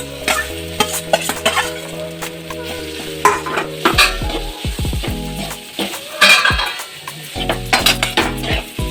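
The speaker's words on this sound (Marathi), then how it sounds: "पुन्हा एकदा सगळं एकजीव करून घेऊ." A spoon scraping and clattering against a pan while a spicy vada pav filling spiced with chili paste, coriander powder and salt is stirred, with loud irregular metallic knocks over a faint sizzle.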